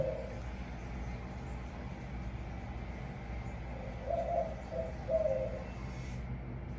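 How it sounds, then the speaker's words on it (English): An unidentified bird calls from outside, heard faintly indoors from a bathroom, giving a few soft cooing phrases, one early, then a short cluster near the end, over a low steady room hum. "I don't know what kind of bird this is, but listen, you can hear it in my bathroom."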